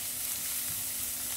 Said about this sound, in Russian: Жарить будем минут 5-7. Грибы жарю на семерке